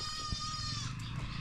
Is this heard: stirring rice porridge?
no